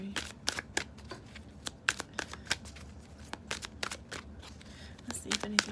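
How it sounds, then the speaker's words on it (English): Tarot cards shuffled by hand, a steady run of crisp riffling slaps and flicks close by, fairly quiet, with soft talking underneath. "I like shuffling these cards, it's fun."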